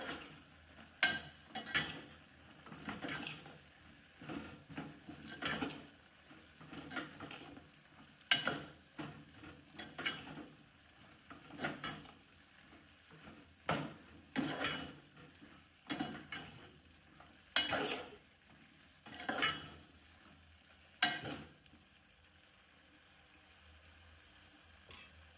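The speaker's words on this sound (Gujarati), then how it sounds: "મિત્રો સારી રીતે મિક્સ કરી દઈશું." A cabbage and peas curry with turmeric, salt and coriander-cumin powder is stirred in a pan, giving repeated close scraping strokes in a loose rhythm over a faint sizzle, with no talking.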